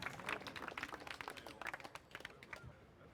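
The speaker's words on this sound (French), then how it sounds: "Applaudissez-le, s'il vous plaît." Scattered, fairly quiet clapping from a small audience for a contestant who named the Zelda theme, a few hands at first, thinning out toward the end.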